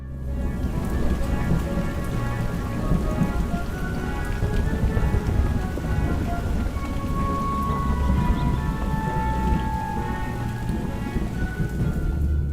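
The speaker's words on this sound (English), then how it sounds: "It's raining down on him. It's thunder. It's lightning." Steady heavy rain pattering on surfaces with low rolling thunder rumbling throughout, a continuous dense storm wash with no voices.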